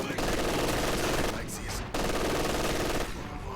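Dense, continuous machine-gun and rifle fire fills a Company of Heroes 2 battle, including Wehrmacht sniper shots, loud and unbroken apart from a brief dip, with commentary voices partly mixed in.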